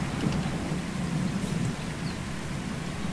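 Steady rain pours down in the Farming Simulator 22 game world, a dense even hiss with low rumbling underneath that holds at constant loudness for a few seconds, with no voices.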